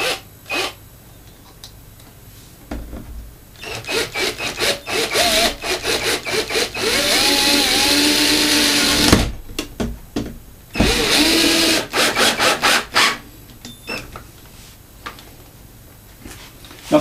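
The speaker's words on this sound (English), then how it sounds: "So put a screw in the top there." A power driver runs a screw into a wooden stud behind a plasterboard wall to fix a radiator bracket, giving loud, whirring, grinding bursts that rise and stop repeatedly, with no voices.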